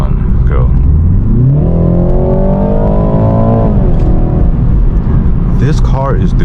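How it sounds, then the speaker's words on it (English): A 2021 BMW 330i accelerating hard during spirited driving, its engine note climbing steadily through a long pull and then easing off, loud and close from inside the cabin, with a brief voice at the start and end. "Now we're just gonna do a little bit of spirited driving for a good 30 seconds."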